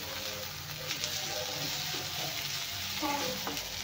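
Ginger garlic paste frying with browned onion in an oil-filled pan, a steady broadband sizzle with soft scraping stir sounds throughout, close and fairly loud, no voices.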